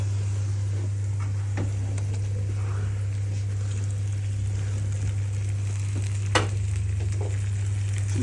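Menemen with peppers sizzles steadily in a pan, a constant crackling fry with a low steady hum beneath and an occasional sharper pop, no voices.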